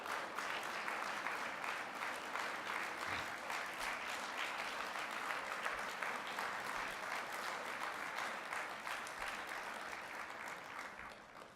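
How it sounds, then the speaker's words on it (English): Sustained, dense applause fills a school program hall as the audience claps for standing parents, teachers and principals, an even, continuous roar of hands that fades slightly toward the end. "so we can really give you a round of applause"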